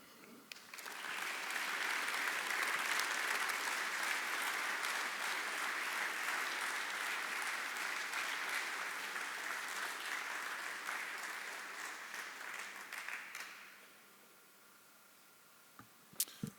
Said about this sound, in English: let's give one more round of applause for the McDermott family and Bill and Ruth Scott